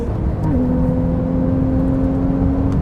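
Close, steady drone of a 2017 Porsche 911 Carrera GTS under acceleration, a loud continuous engine hum with the pitch shifting as it changes gear early on, heard from inside the cabin.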